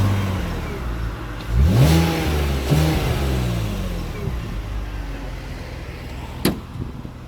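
BMW Z4 six-cylinder engine revving up close, two rising throttle blips in quick succession before the note falls away to a smooth idle, followed by a sharp click.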